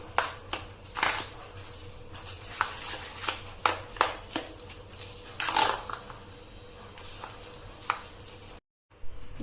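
Moong dal bhaji batter being whisked and mixed in a bowl, a run of close, irregular scraping and tapping strokes against the bowl with short pauses between them.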